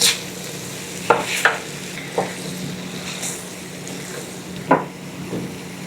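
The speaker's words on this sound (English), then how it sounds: "It's been about 5 minutes, so I'm gonna give this a stir." Turmeric potatoes are stirred in a pan, with a soft steady sizzle under a few distinct scraping knocks of the utensil against the pan, no talk.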